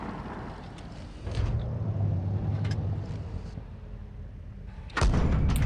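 Tank main gun firing in the T20 video game, a heavy boom with rumbling engine noise beneath, followed later by a second sharp loud blast near the end.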